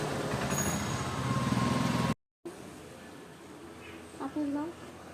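Road traffic while riding along a street, a steady broad rumble of engines with a brief dropout, then quieter passing noise and a short higher tone near the end.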